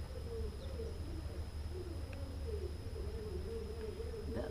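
Doves coo softly and repeatedly on a patio in Cholla Bay, Mexico. The calls are faint and sound fairly distant over a steady background hum, with no talk.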